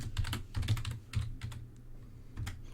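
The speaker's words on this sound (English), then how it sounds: "when I'm recording, I'm really bad at typing, like awful" Fast, uneven keystrokes on a computer keyboard in bursts of clicky taps with short pauses, close and clear with no talking.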